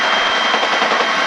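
A UH-1B helicopter's turbine whine and rotor hum run as a steady, loud drone, close and unbroken.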